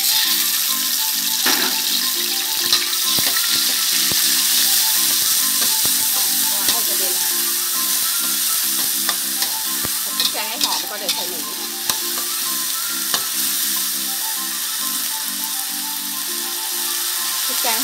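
Pounded curry paste sizzles and stir-fries in a hot wok for a pork and fermented bamboo shoot curry, a steady loud frying hiss with scraping stirs throughout.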